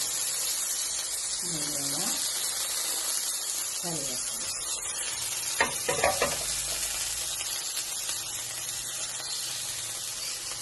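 Chopped onion and tomato fry in a pan with a constant moderate sizzle. A few brief voiced sounds and a cluster of sharp stirring knocks sit over it near the middle.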